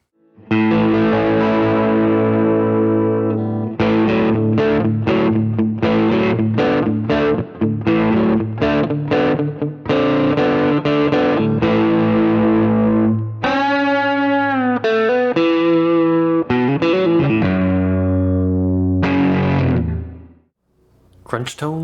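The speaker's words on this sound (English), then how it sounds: "Crunch tones, neck and middle." Crunchy overdriven electric guitar with the neck and middle pickups combined plays a chugging riff of short chord stabs and note runs, loud and alone, fading out at the end.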